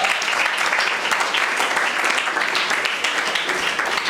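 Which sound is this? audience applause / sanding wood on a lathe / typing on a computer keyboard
audience applause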